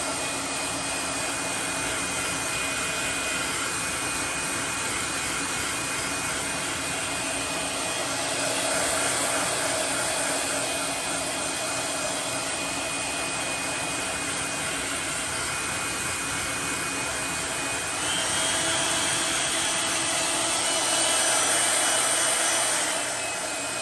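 Steady blowing roar of a heat gun heat-setting fresh paint on a custom fishing lure, continuous and close for the full length, swelling slightly louder twice as the tool is moved.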